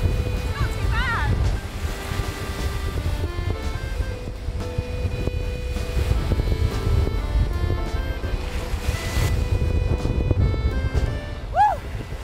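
Strong wind gusts across a beach in Brittany, roaring into the microphone with surf washing behind and a voice talking briefly over it.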